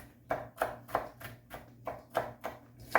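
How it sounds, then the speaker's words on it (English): A knife chops food on a wooden chopping block on a farm kitchen counter, striking in a steady rhythm of about ten crisp, close-up thuds over a few seconds with no talking. "So we're going to chop that up."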